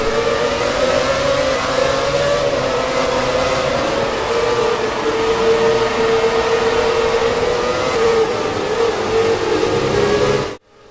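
Kimi Raikkonen's 2007 Formula 1 car in the video game F1 2017 screams with a high, steady engine whine that rises and falls slightly through the revs, loud and continuous before cutting off abruptly.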